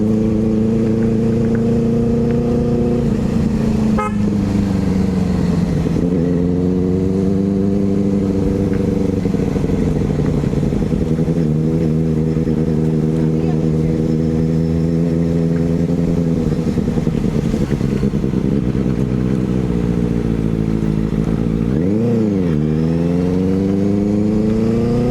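Exhaust of a Benelli 600i inline four-cylinder motorcycle, loud and near, with the engine rising and falling through revs across a long stretch, with a brief dip and surge late on.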